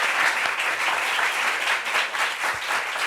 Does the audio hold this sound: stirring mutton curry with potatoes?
no